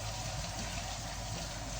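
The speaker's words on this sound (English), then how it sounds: "I have to just wash my meat." Tap water runs steadily while meat is washed in a tiny house kitchen, a constant close hiss of flowing water with no pauses.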